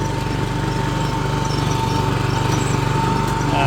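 A John Deere JX90CB professional lawnmower engine runs steadily at close range, a loud continuous buzzing drone with a fast regular pulse and no pauses.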